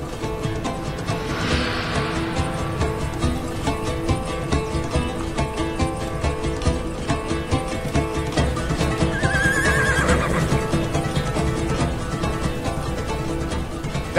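Horses whinny loudly a couple of times over steady background music, with faint hoof clip-clops.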